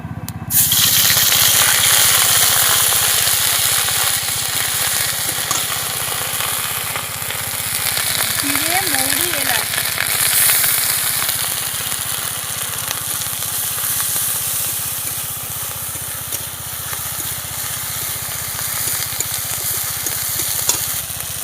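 Ginger and green chilli paste hits hot frying oil with black cumin seeds already in it, giving a loud, steady sizzle from the first second that hisses on without a break.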